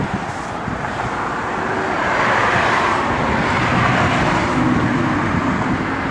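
A 1971 Pontiac LeMans Sport engine with new dual exhaust rumbles steadily at a moderate distance, a broad continuous drone that swells slightly partway through, with no talking.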